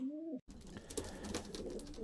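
One close, soft pigeon coo opens, then gives way to a wash of rustling, shuffling noise with faint bird sounds underneath, in a pigeon loft at feeding time during the moult.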